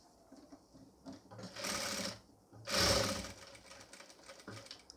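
A sewing machine stitches a pleated nightie in two short bursts of whirring running, each lasting under a second, with quiet pauses and faint handling noises between them.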